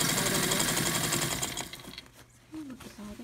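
A blue vintage Japanese chrome heavy-duty home sewing machine stitches in a fast, steady mechanical whir for about a second and a half, then stops, leaving quieter handling noises and a brief squeak.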